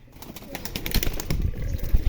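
Rajshahi Giribaz pigeons flapping their wings in a loft, a rapid run of fluttering wingbeats that builds in loudness over two seconds, close by, with faint cooing and no talk.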